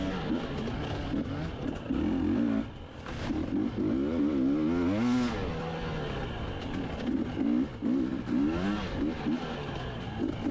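Dirt bike motorcycles racing in a Florida harescramble on a woodland trail course, engines revving and rising in pitch as riders pass, a continuous loud buzzing roar that swells and fades throughout.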